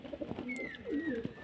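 Pigeons kept in a loft, set loose to eat crushed brick soil, coo in soft repeated phrases, close by and fairly steady, with a few faint higher chirps over a low background.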